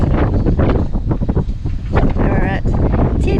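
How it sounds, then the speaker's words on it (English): Gusty wind at a beach on the Yorke Peninsula near Port Vincent buffets the microphone with loud, rough low rumbling that swells and dips, briefly mixed with other faint sounds. "it's a bit windy"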